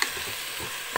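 Vegetables and canned stewed meat sizzling and bubbling in a multicooker, a steady close frying hiss with soft crackle, alone without talk.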